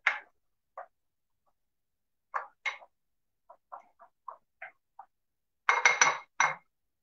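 A cup of yogurt and a cup of gram flour are stirred together in a bowl. The spoon gives sparse, sharp clinks against the bowl, irregular and close, with a quick cluster of taps near the end.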